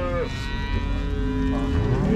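Cattle at the Uzynagash livestock market mooing close by, with one long low moo and then another starting near the end, over steady crowd noise and background talk.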